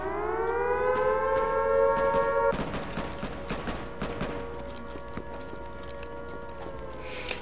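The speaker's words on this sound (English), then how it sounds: "Forgot that there was an air raid siren on this one." A loud air raid siren in the video game Frontline: Karelia drones with rising and falling tones, overlapped by a burst of clattering, crackling noise before the wail continues alone.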